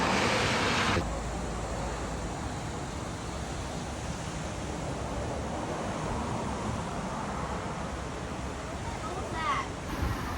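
Strong hurricane wind from Hurricane Helene roars steadily as a broad, constant rush buffeting the microphone, louder for the first second and then holding at a sustained level with only slight gusting.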